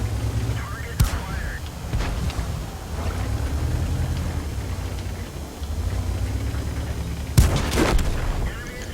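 A tank cannon fires at a Cromwell tank in a tank-combat video game, with two heavy booms about six seconds apart over a steady low engine rumble.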